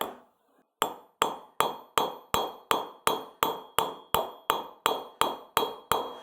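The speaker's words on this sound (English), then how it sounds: "Now I'm using a fairly large hammer, and I'm letting the hammer do the work." A fairly large hammer strikes a silver billet in fourteen evenly spaced, ringing blows after a brief quiet start, each impact sharp and bright with a short metallic decay.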